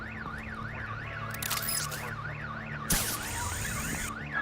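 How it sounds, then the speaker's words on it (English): In the video game Batman The Enemy Within, a car alarm wails in a rapid, steady up-and-down warble that sounds continuously throughout, with a few loud bursts of noise breaking over it. "My bat stunner would set off the car alarm."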